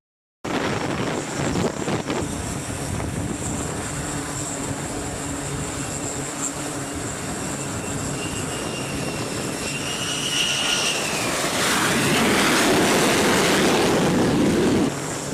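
An F-35 jet roars through a catapult launch from an aircraft carrier, a loud sustained engine rush that swells toward the end.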